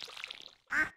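A duck in Stardew Valley gives one clear, fairly loud quack near the end, preceded by faint, twinkly game sounds.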